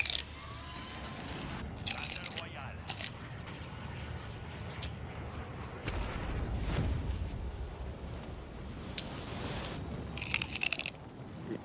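Crunchy raw celery being chewed, with loud, close, wet crunches and bites repeating irregularly over a noisy background and no voices.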